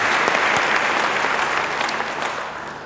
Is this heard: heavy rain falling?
no